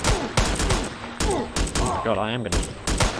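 Rapid gunfire crackles through a firefight in a Game Guru video game, the shots coming in dense bursts. Someone speaks over it in an excited, alarmed voice.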